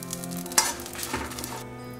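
Grated coconut and tamarind frying together in a pan for horse gram chutney, with a steady close sizzle, a sharp stir-scrape partway through, and the hiss easing off near the end.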